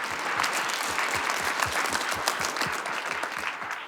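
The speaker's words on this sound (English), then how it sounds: "Can we actually give Doug a round of applause?" An audience gives a round of applause, with brisk, close, continuous clapping that tapers off slightly at the end.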